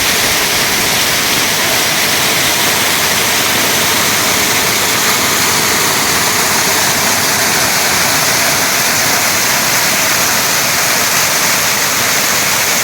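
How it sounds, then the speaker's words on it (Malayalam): A steady, roaring rush of falling water pours without pause from the upper tier of a two-tiered waterfall at Cheerattamala, loud and close, filling the whole stretch with dense broadband noise. "ഇപ്പോൾ നിങ്ങൾ കണ്ടുകൊണ്ടിരിക്കുന്നത് മുകൾ ഭാഗത്തെ വെള്ളച്ചാട്ടമാണ്"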